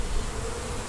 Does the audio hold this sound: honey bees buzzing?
yes